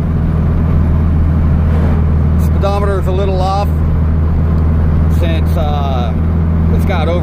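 A 1970 Baja Bug with a 2276cc engine cruises along, its loud steady engine drone and road rumble filling the cabin, with a person talking over it.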